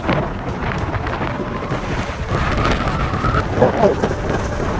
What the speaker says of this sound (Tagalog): Ang sarap ng simoy ng hangin, guys